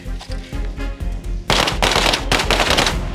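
Police officer from a Slovak special unit (PMJ) firing at a range: three sharp, loud gunshots in quick succession, cutting through preceding rhythmic background noise, with no talk over them.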